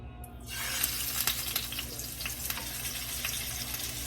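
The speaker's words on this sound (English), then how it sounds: "time to put the chicken in the frying pan" Chicken hits a hot frying pan and erupts into a steady crackling sizzle, close and constant, with scattered sharp pops.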